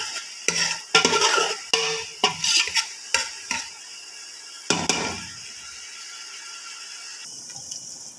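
Chopped onions are stirred in a pan with a utensil, a series of sharp scraping and clacking strokes over a faint sizzle, then the stirring stops and only quiet frying remains.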